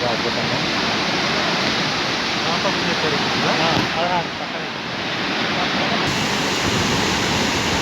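Water released through the opened gates of the Tungabhadra reservoir rushes into the river in a loud, continuous roar of broadband noise. A voice is faintly audible partway through.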